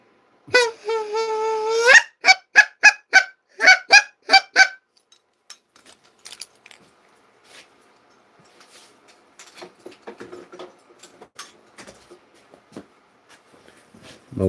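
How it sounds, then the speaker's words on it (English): A hand-blown goose call sounds off with one long honk followed by a rapid string of short, loud honks up close, then quieter handling clatter and rustling until the end. "My old favorite goose call."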